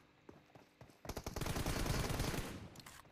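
Gunfire in a competitive shooter video game match: after a few faint early pops, a loud dense burst of rapid shots runs through the middle and fades toward the end, with no talk.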